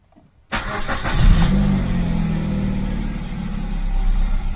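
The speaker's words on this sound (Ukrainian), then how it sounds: "Так, заводимо двигун." After a brief quiet moment, the engine of a 2011 Kia Ceed with an ABS fault cranks and catches, then settles into a steady, loud idle that continues to the end.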